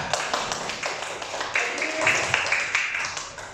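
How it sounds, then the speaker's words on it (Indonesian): Children in a classroom clap their hands together, a dense burst of close claps with some taps and voices mixed in throughout. "Oke, berikan tepuk tangan semuanya."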